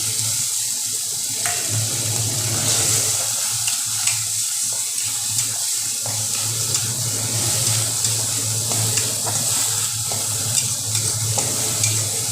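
Loud continuous hiss of onion and green chili paste frying in a hot pan, with scattered crackles and stirring scrapes over a low hum, no voices.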